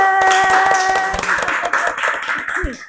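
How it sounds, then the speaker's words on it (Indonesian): A short burst of hand clapping from a small group, quick and irregular, fading out after a few seconds. "kita tepuk tangan"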